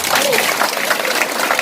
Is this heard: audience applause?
yes